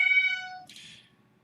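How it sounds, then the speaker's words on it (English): A house cat gives one clear meow, a drawn-out tonal call that ends in a brief breathy rasp, close and alone with nothing else audible. "my cat is being slightly annoying"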